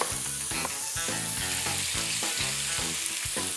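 Sausages with strips of carrot and Chinese cabbage fry in a pan, a loud continuous sizzle with rhythmic stirring scrapes, no voices.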